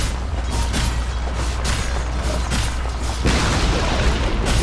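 A middle tower burns and collapses in the Blade & Soul video game, giving a loud, dense roar of crackling rumble broken by repeated booming bursts that swell toward the end.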